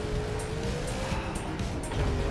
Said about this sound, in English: Look how fast that car is going.